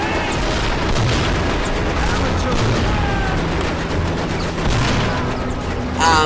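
Dense video game combat in Mercenaries 2, a continuous roar of mixed gunfire and explosion rumbles with scattered sharper shots, loud and unbroken throughout.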